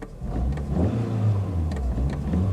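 A Ford Ka's engine and exhaust hum from inside the moving car, a low, steady drone with slight rises in revs over a few seconds and no talking.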